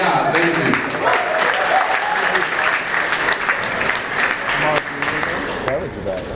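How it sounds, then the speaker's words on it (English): Members of a Washington Commanders group clap together, a sustained, fairly loud spread of hand claps with several sharper accented strikes, mixed with voices talking and calling out throughout. "Give me 6 claps and let's go."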